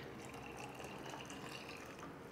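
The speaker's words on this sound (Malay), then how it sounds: "Dan saya akan tuang dalam jug ni." Homemade chicken stock being poured into a jug, a faint, steady trickle and splash of liquid running continuously for a couple of seconds in a quiet kitchen.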